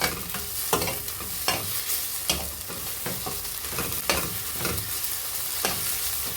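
Spice paste for chicken curry sautéing in a pan, a steady sizzle broken by regular scrapes and stirs of a spatula roughly every second, close up with no talk.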